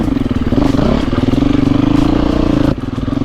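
A 2024 KTM EXC F 350 four-stroke motorcycle runs loud and close in a steady, smooth drone, its pitch briefly dropping near the end as if easing off the throttle, with no talking.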